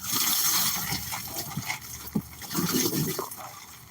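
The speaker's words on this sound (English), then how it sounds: "I'm intentionally making the water fall into the boat." Water splashes and trickles in bursts into a boat, close by, with a sharp splash near the middle and a steady washing sound throughout.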